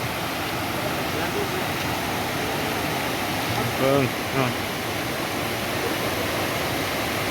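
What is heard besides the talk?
waterfall flowing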